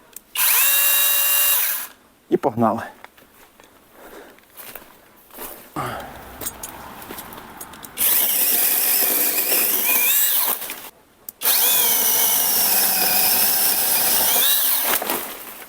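A loud Grösser cordless saw whines in several long bursts cutting a walnut tree, stopping and restarting, with brief talk and handling noise in the pauses between cuts.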